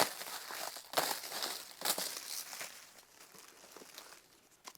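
Plastic packaging around a 30 watt fiber laser is cut and pulled away, giving close, irregular crinkling and tearing rustles that fade toward the end, with no talking.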